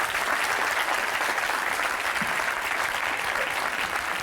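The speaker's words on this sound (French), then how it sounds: "On peut quand même l'applaudir" Studio audience on a French TV game show applauding, a steady dense wash of clapping filling the whole stretch at an even level with no voices over it.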